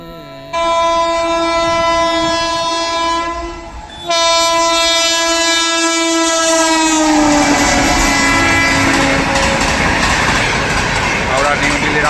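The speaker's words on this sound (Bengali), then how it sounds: "এবার গাংপুর রেল স্টেশনের উপর দিয়ে ঝড়ের গতিতে কীভাবে এক্সপ্রেস ট্রেন ছুটে চলে সেটাই আপনাদেরকে দেখাবো" An express train races through Gangpur railway station in rural Bengal, its horn sounding long and loud with a brief break, then the roar and rattle of the passing carriages building up close by.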